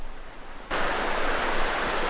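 Flowing stream of water running through a village down to Coniston Lake, a steady broadband rush that starts suddenly and stays loud and close.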